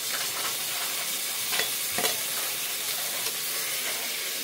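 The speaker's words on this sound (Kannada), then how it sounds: "ಈಗ ಟೊಮೊಟೊ ಹಾಕ್ತಾ ಇದ್ದೀನಿ." Tomatoes frying in a hot pan for biryani, a steady close sizzle and hiss with a few brief stirring scrapes and spatters, no voices.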